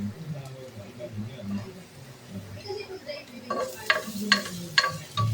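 Garlic hitting hot rendered pork fat in a pan for menudo, a rising sizzle with sharp clinks of a utensil stirring near the end, under steady talk in Filipino.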